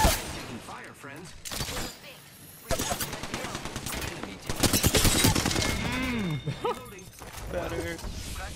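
Rapid bursts of automatic gunfire in the shooter game Apex Legends crackle loudly through several volleys, with mechanical clicks and voices talking over the fighting.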